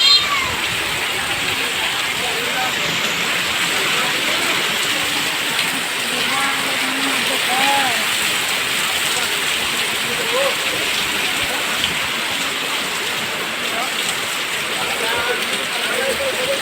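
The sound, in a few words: heavy rain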